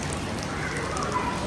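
Steady rain falling through a slow evening in Pune, a soft continuous patter close by, with faint distant birds and a quiet voice now and then.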